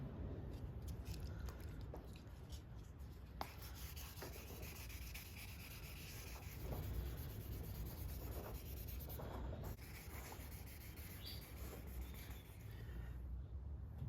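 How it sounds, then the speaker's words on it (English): A Benotto SLX bicycle frame is rubbed down with 2500 grit wet sandpaper, giving a soft, continuous swishing and scrubbing up close. The strokes are quiet and steady, with no speech. "Now comes rubbing the frame down with, I'm going to use 2500 water paper."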